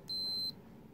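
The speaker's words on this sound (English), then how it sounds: "we're going to take the multimeter on continuity" One short, high electronic beep from a multimeter set to continuity, a clean tone of under half a second, close and clear over faint background hiss.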